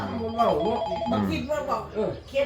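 A telephone rings with an incoming call, its tone sounding beneath continuous talking by a man throughout.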